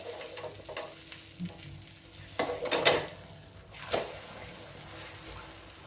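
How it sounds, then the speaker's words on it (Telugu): An egg omelette frying in hot oil in a pan, a steady close sizzle with a few louder bursts and pan clatter partway through, no talking. "ఆయిల్ హీట్ అయిందండి ఆమ్లెట్ వేసేస్తాం"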